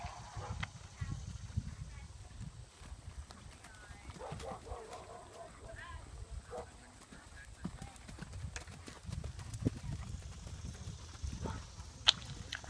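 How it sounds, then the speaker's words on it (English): Horses walk in a warm-up ring at a horse show, their hooves clip-clopping in an uneven, fairly faint rhythm while an announcer's voice and other talk carry over the arena. "Walk your horses, please."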